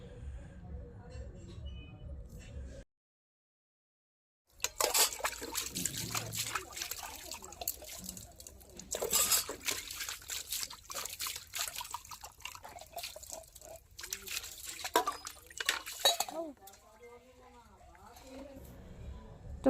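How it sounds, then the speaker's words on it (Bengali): Dishes are washed with water in a village home, with trickling, splashing and clinking of utensils coming in uneven bursts after a brief silence, and a voice speaking over parts of it. "আর আমি এই যে বাসন ধুতে চলে এলাম"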